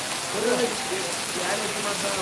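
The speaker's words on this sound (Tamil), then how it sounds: "சரியான மழை" Heavy rain pours steadily in Kanyakumari, a dense, continuous hiss of drops on surfaces that stays loud and even throughout, with faint voices underneath.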